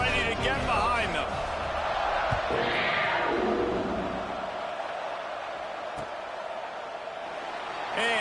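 Stadium crowd in an NCAA football video game, a broad continuous roar that swells then eases slightly, with a few thuds and a voice talking over it early on.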